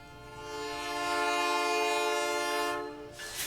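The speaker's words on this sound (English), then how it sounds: "The Canadian Pacific holiday train rolled into town Wednesday evening" Canadian Pacific holiday train arriving in town on a winter evening, its horn sounding one long sustained chord that swells and fades, with rail noise rising at the end.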